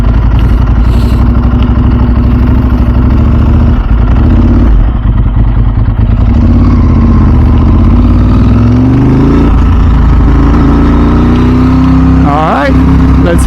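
A Ducati 996 SPS motorcycle engine runs steadily and loudly up close, a continuous deep rumble with a slight rise near the end, while someone talks over it.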